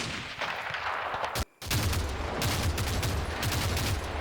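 Dense enemy gunfire from the war game Combat Mission: Fortress Italy crackles nonstop in overlapping rifle and machine-gun bursts, loud and continuous apart from a brief dropout partway through.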